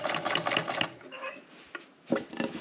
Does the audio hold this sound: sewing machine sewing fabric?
yes